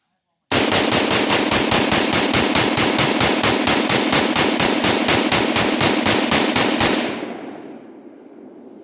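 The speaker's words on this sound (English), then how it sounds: "Yeah, it's shooting some fire." A 10.5 inch AR pistol fires a long rapid string of shots, loud and close, with an even, fast rhythm for about six seconds before the report trails off into ringing echo.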